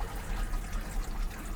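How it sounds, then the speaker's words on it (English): A patio water fountain trickles and splashes steadily, a continuous close-up wash of running water with no talk. "Here's the water fountain."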